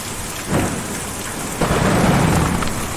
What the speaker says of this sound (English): Difficult to see or even hear a storm like that